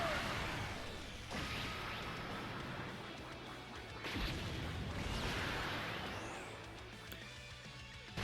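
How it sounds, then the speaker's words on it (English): Special Beam Cannon attack blast in Dokkan Battle, a series of whooshing, crashing energy bursts with sharp swells around the middle and end, layered over game music, no talk. "Special beam cannon!"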